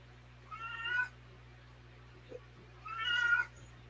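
A cat indoors meows twice, each a fairly faint, drawn-out call about two seconds apart, over a steady low electrical hum.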